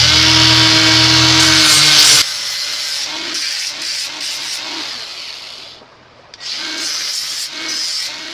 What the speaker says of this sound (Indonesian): langsung amplas saja.